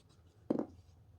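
Writing on a board during a geometry lesson on triangles makes one brief, close scrape of about a tenth of a second in an otherwise quiet room.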